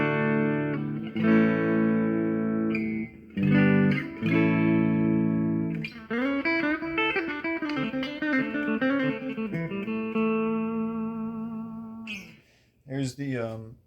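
A clean electric guitar fitted with a new tremolo block plays sustained chords and single notes with a bright, ringing tone, followed by a few short plucked notes at the end.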